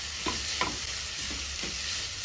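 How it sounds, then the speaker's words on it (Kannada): Capsicum and onion frying in a pan for samosa filling: a constant bright sizzle with a spatula stirring and scraping in regular strokes roughly every third of a second, close up. "ಕ್ಯಾಪ್ಸಿಕಮು ಆನಿಯನು ಇನ್ನೊಂದು ನೀಟಾಗಿ ಫ್ರೈ ಆಗಲಿ"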